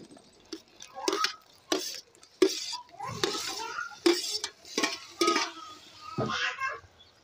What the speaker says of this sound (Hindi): मसाला भून गया, मैं इसमें टमाटर और डाल देती हूँ।